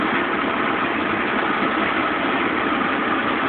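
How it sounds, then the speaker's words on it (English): A heavy truck with a 9-speed gearbox, hauling a heavy load in the mountains, holds a loud, steady low engine drone while the driver shifts gears. The roar stays constant and close throughout. "pull it out of gear, rev it up, and in gear"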